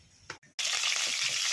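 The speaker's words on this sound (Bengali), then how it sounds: "আলুটা ভেজে নেব।" Potatoes dropping into hot oil in a wok, a brief clunk and pause, then a loud, dense sizzle that holds steady to the end with no talking.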